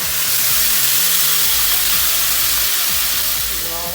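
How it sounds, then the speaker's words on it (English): Tomato puree hits hot oil in a pan and sizzles loudly with a dense, steady hiss throughout, while a tonal background hum runs beneath. "Now once the oil is heated up, you can put this puree."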